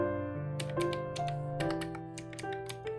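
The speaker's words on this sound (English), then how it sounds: "Oh, that's a wonderful clack." Keys on a Veikk drawing tablet are pressed, giving a series of sharp close clacks in an irregular rhythm over steady background music.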